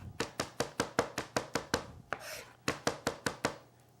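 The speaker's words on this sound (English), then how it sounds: "And then you just start chopping away until you get it pretty finely minced" A knife chops garlic finely on a cutting board in a home kitchen. About a dozen crisp, evenly spaced taps sound close up, with a short scraping pause before a final run of chops.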